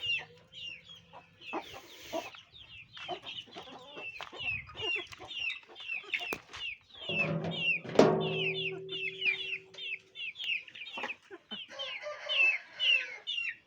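Several hens cluck and squawk in a busy, overlapping chorus, with brief louder calls rising above the steady chatter.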